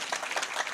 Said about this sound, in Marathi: सर्वची सर्व गाणारासाठी आणि वाजवण्यासाठी एकदा प्रेमाने टाळ्या वाजवा